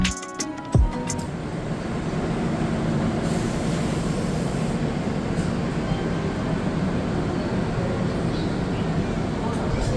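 A train at New Jalpaiguri station gives a steady low rumble and hum of rolling stock, broad and continuous, with a brief clatter at the start and faint background noise.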